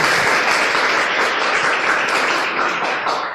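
At a sales prospecting meeting in Cirebon, the room bursts into applause, a loud, dense, continuous round of many hands clapping that fades slightly toward the end, with no talking.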